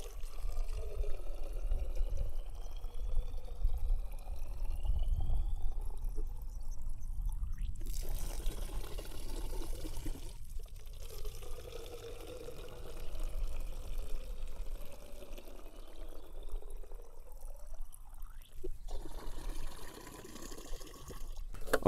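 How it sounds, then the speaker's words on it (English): Hose water pouring and trickling into a sprayer bottle for a hydrogen peroxide and water mix for tomato plants, a steady close liquid stream with a couple of brief breaks, no talking. "So I've got a little hose water here."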